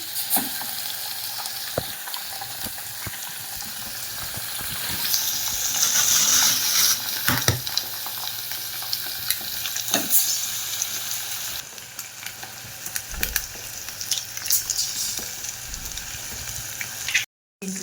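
Three eggs fry in oil in a pan with vermicelli noodles, giving a steady, close sizzling hiss with occasional stirring scrapes, and no talking.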